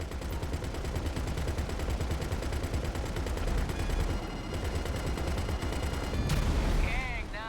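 Rapid automatic gunfire in Satisfactory, shooting at incoming missiles: a dense, continuous rattle of shots that fills the whole stretch, with a short burst of other game sounds near the end.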